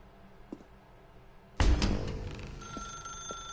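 A telephone ringing in The Stanley Parable Ultra Deluxe, a sudden loud burst of bell-like ringing after a quiet start with a couple of faint clicks, then a sustained ringing tone trailing off.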